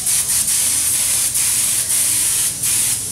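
Spray paint gun firing a test spray before customizing motorcycle rims, a loud continuous close hiss pulsing briefly as the trigger is eased and pressed, with no talking.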